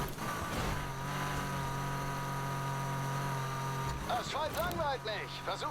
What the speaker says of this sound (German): das Auto fährt jetzt ein bisschen besser